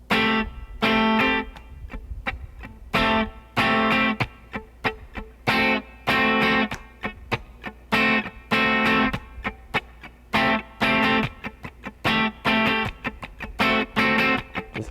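Funk guitar rhythm exercise with sixteenth-note strumming: choppy, tightly muted chord stabs in a steady syncopated pattern with distortion-tinged tone, played alone and loud with short gaps between bursts.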